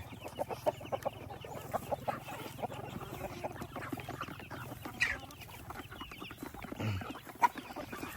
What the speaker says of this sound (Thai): แล้วสังเกตเบิ่งไก่นี่มัน